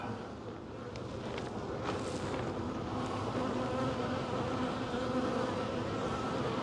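Honeybees buzz steadily at an open, crowded hive being inspected before a split, a dense continuous drone close to the microphone with faint handling sounds.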